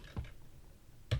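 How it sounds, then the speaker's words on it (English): Two soft, quick key presses on a computer keyboard, spaced about a second apart, over a quiet room hum. "we're going to hit R on our keyboard and hold down Control"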